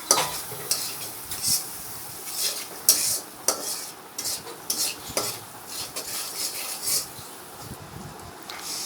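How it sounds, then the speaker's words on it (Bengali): Soybean chunks fry in oil with onion, turmeric, chili powder and salt, a soft steady sizzle under frequent clinks and scrapes of a metal spoon stirring against the pan, no voices. "আমরা তেলে পেঁয়াজ, হলুদ, মরিচের গুঁড়া এবং লবণ দিয়ে এটাকে ভেজে নিচ্ছি"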